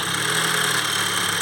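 A VW Golf GTI engine with a camshaft position sensor circuit fault runs at a steady, loud idle, a close mechanical drone with a whining hum. It does not cut out within this short stretch.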